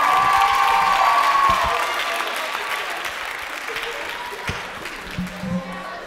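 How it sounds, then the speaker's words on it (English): A student show audience claps and cheers loudly, the crowd noise strongest at the start and gradually thinning, with scattered shouts and a few voices near the end. "can we get a big round of applause for all these people?"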